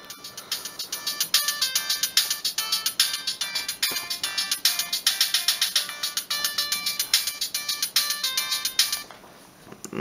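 Default ringtone of a Siemens M65 mobile phone, a bright electronic melody of rapid repeating beeping notes in a steady pulsing rhythm, loud and close, playing alone for about nine seconds before cutting off.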